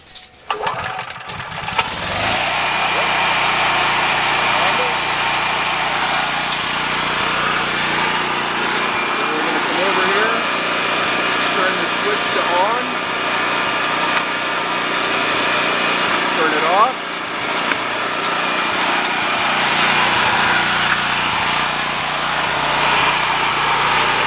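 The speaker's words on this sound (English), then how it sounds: "all we need to do here is to start our generator. And this is a Honda, so it's going to pull on the first start" A Honda EM 5000S generator engine runs steadily and loudly after a pull start, a constant buzzing drone with slight fluctuations throughout, with voices faintly underneath.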